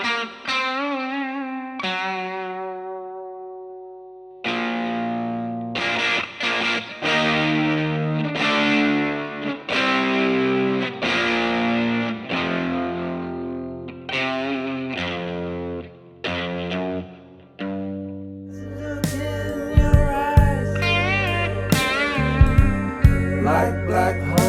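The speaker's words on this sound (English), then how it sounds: "one guitar is gonna be on the left, one guitar is gonna be on the right. That's how you get that very full sound" Electric guitars with distortion, chorus and effects playing sustained notes and chords in a full, wide sound, with a heavier distorted, more dense passage toward the end, no talking.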